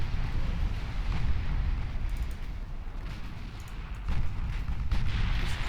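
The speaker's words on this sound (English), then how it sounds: "main guns firing away" Warship main guns, from heavy cruisers and battleships, fire in the naval game Ultimate Admiral Dreadnoughts. The booms blur into a steady, muffled rumble, fairly quiet and distant, with a stronger burst near the end.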